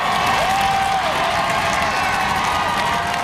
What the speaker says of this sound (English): A record crowd taking to the streets to celebrate the Penguins.